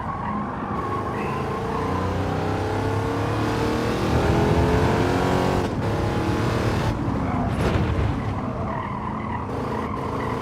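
Race car engines in Gran Turismo 7 rev and rise through the gears with tire skids and squeals, a continuous loud whine that dips during shifts and swells back up.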